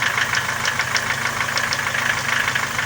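Opel Vectra A carburetted petrol engine idling with an air leak under the carburettor: a steady, close running drone with a quick, even ticking knock throughout, and no talk.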